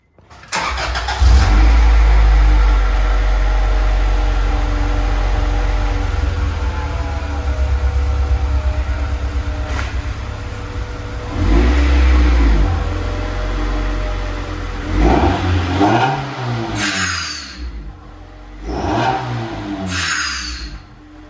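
A loud car engine rumbles steadily, with several sharp revs rising and falling near the end, close and aggressive.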